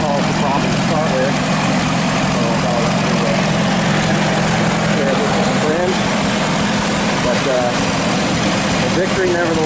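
A 1955 International Farmall 100 tractor engine runs at a steady idle, a loud, constant low rumble and vibration throughout while someone talks over it.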